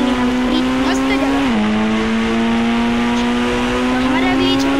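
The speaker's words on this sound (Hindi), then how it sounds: "इस प्लेस पर ड्रिफ्ट मार के रुकते गाड़ी" A game car drifting in Indian Bike Driving 3D, a steady loud engine drone whose pitch dips once early on, with faint tire-squeal streaks running through the sustained tone.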